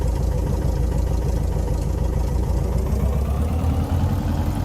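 Airplane engine in a VR flight simulator with the cockpit window open, a loud, steady low drone with a fine pulsing texture, unchanging throughout.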